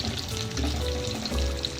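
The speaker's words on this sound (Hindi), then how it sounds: "तो ये चारों तरफ से फ्राई हो जाएंगे अच्छी तरह से।" Chicken zinger bites deep fry in hot oil over a medium flame, a steady close crackling sizzle with light bubbling throughout, no voices.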